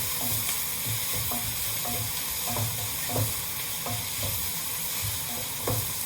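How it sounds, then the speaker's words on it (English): Onions, crushed garlic and ginger frying in oil for a beef curry, under a steady loud sizzle. A spatula scrapes and knocks against the pan at a regular stirring rhythm. "Crushed already, shoved in there, and give it a stir so that they don't stick."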